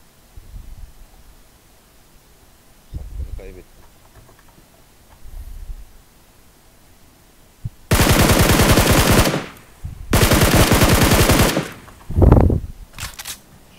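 Automatic gunfire in the PUBG Mobile battle royale game, on the Livik map, comes as two long, loud sustained bursts after quieter thuds and movement noises, followed by a short single blast.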